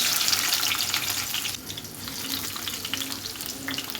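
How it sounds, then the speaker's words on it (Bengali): Chopped onion frying in soybean oil in a hot frying pan, a steady close sizzle and crackle with occasional stirring scrapes, no voices. "এখানে ফ্রাই প্যান গরম করে নিয়ে সয়াবিন তেল দিয়ে দিলাম পেঁয়াজ কুচি"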